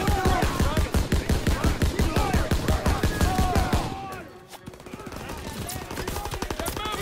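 Rapid machine-gun fire in Call of Duty WWII sounds in a steady, loud rhythmic stream, dips briefly, then resumes amid battlefield noise with shouted voices.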